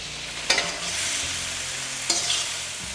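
Biryani masala frying over a medium flame with curry leaves, chilli and ginger-garlic, a steady close sizzle broken by two sharp stirring scrapes of a spoon against the pan.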